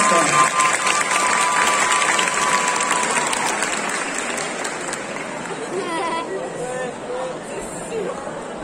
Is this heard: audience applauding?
yes